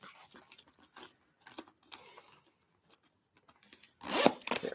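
Zipper on the back pocket of a new floral bag being worked open in short scratchy bursts, close up and fairly loud, with a longer rasping pull near the end and no talking.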